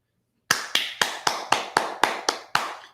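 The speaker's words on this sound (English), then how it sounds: "Can you believe that I'm applauding Steve Kim?" One person claps slowly and deliberately, about nine crisp, evenly spaced claps close to the mic, heard alone after silence.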